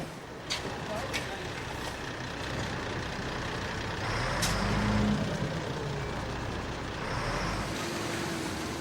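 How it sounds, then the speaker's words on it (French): Trucks and other vehicles move along a mountain road during monsoon, a continuous broad engine rumble that swells midway, with brief hissing bursts like air brakes and faint speech in the background. "La circulation reprend."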